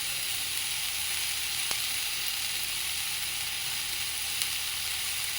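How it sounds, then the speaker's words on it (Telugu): Fresh coriander frying in a pan for onion chutney, a steady close sizzle that holds evenly throughout, with a couple of faint clicks and no talking. "అండ్ దెన్ కొత్తిమీర వేసుకొని బాగా వేయించుకోవాలి."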